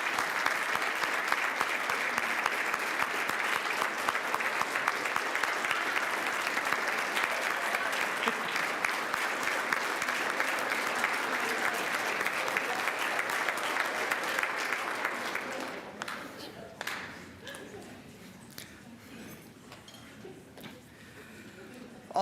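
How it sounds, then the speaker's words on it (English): A ceremony audience applauding students, a loud, sustained roar of dense clapping for about fifteen seconds that then breaks into a few scattered claps and quieter room murmur. "one more big round of applause for all of our students here in attendance tonight"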